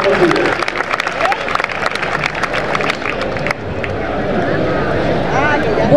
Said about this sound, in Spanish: un aplauso grande para la gente que viene